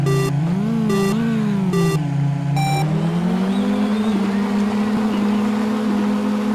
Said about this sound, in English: you hear the cars, and it's just like this loud screeching noise